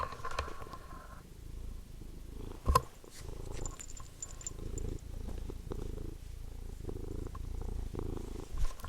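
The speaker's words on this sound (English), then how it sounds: "You're purring so loud." A cat purrs steadily close to the microphone, a low rumbling vibration continuing throughout with a brief sharp knock partway through.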